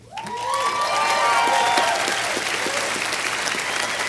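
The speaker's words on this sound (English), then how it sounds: "we thank you and applaud you" Audience applause at a 2018 Pitzer College commencement ceremony, a full, sustained wash of clapping that swells quickly and holds steady, with faint cheers and a fading voice at the start.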